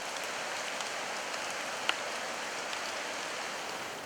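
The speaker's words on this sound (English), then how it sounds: "The sound of a light shower of rain and flowing water from a stream nearby greets" A steady hiss of light December rain blends with the continuous rush of a nearby stream along a village trail, with a few faint drops standing out.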